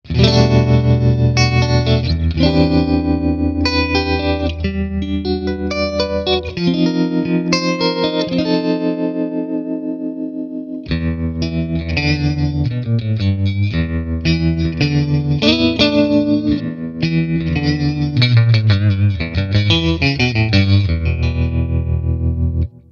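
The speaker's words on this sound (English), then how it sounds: "It sounds like a nice tremolo." Electric guitar with a pulsing tremolo effect, chords and melodic lines wavering in volume, played continuously with a brief pause midway.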